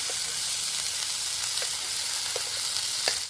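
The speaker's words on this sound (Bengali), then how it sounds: "আমি অল্প অল্প করে ফ্রাই করে নিচ্ছি" Chicken pieces fry in a pan in small batches, giving a steady, close sizzle with a few soft crackles and pops, and no talking.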